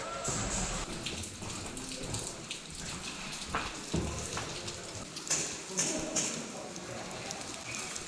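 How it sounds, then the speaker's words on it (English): Rain falls inside a video game, a steady broadband hiss running through the whole stretch with occasional sharper taps and splashes standing out now and then. "it's actually raining out here"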